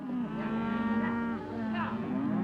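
Cattle on Easter Island mooing, a long, loud, continuous low bellow that swells and holds for the whole stretch with a second rise near the end, no talk over it.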